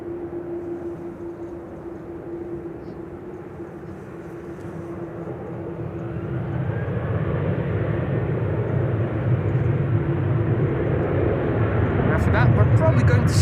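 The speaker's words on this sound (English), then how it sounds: "will the 737 lined up on 18 left take off first to Porto in Portugal?" A Boeing 737 on takeoff from runway 18 Left at Amsterdam Schiphol, its engine roar building steadily from a distant hum to a loud, broad rumble, with a voice talking over it.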